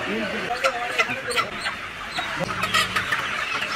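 Crested roosters cluck in short, repeated bursts at a busy wholesale poultry market, close by, with people talking over and between the calls.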